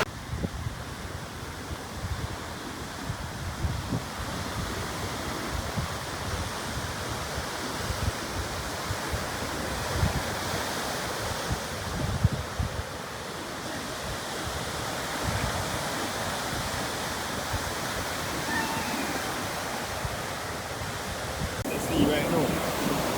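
Sea waves wash and surge continuously at the shore, a broad roaring rush mixed with wind buffeting the microphone, fairly loud throughout.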